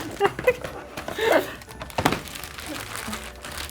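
Wrapping paper crinkles and crumples in quick irregular bursts during a Christmas present wrapping contest, close and moderately loud, with scattered voices in the room.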